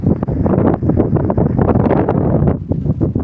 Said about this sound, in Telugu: చాలా అయితే చాలా మొత్తంలో గాలి